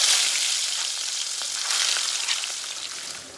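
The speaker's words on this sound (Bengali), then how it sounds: "এখন আমি এর মধ্যে এক এক করে মাছ দিয়ে দেব।" Pieces of rohu fish frying in hot mustard oil in a wok give a steady, close, bright sizzle with soft crackles, continuous throughout and without any talk.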